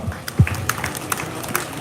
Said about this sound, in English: Put our hands together for him.